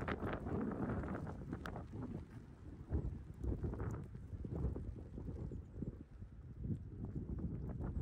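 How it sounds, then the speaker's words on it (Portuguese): Strong gusting wind swirling into eddies along a Patagonian mountain road, a continuous low rumbling buffet on the microphone that rises and falls in irregular surges. "Forma uns redemoinhos do vento."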